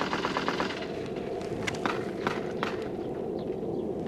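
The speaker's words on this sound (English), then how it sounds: "Started firing from that compound over there." Gunfire in a combat firefight at Marjah, with bursts of shots crackling through a steady, dense background of rumble and noise, fairly loud and continuous without a clear pause.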